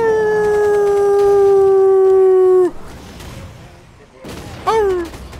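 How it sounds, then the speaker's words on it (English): Dogs howling in the video game Killing Floor 2, a long sliding howl held close and loud, breaking off abruptly, then quieter noise and a second short rising howl. "Why are they barking?"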